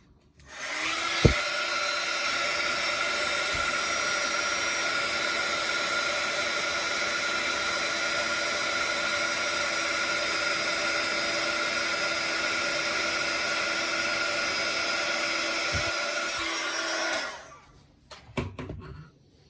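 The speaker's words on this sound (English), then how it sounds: "I'm just going to heat emboss that with my heat tool" Heat tool for craft heat embossing blows hot air in one steady, loud whooshing hum lasting about seventeen seconds before cutting off, with a few light clicks at the start and end.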